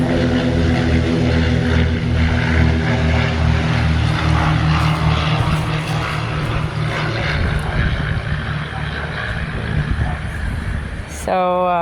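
A propeller airplane drones loudly overhead and steady for the whole stretch, its engine hum holding strong before cutting off abruptly near the end; the speaker's voice is faintly mixed in beneath the engine.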